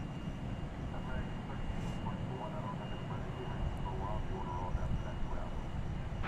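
A jet airliner takes off at DFW Airport at night, a steady, loud broadband engine roar running throughout with radio voices talking over it.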